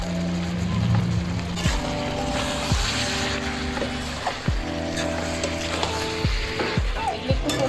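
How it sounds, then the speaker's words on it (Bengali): Boiled jackfruit pieces tipped into a hot frying pan, giving a steady close sizzle with repeated clattering scrapes and knocks from the spoon and pan. "এর মধ্যে আমি সেদ্ধ করে রাখা কাঁঠালগুলো দিয়ে দিচ্ছি।"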